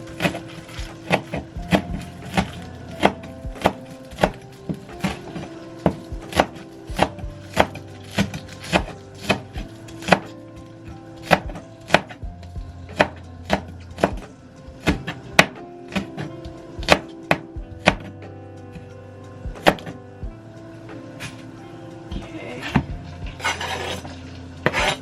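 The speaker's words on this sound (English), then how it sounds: "We're gonna chop up some green onion." A knife chops green onions on a cutting board, sharp wooden knocks coming in quick irregular bursts and steady runs, close and clear, with no talking.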